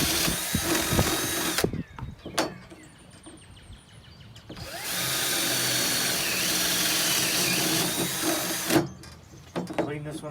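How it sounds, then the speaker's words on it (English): A power drill bores a hole through wood for a dowel on a bird feeder project, first in short bursts and then in one loud, steady whir lasting several seconds, with brief rattles and speech at the start. "I'm going to also drill on the back side too in that same hole just to kind of clear it up a little bit."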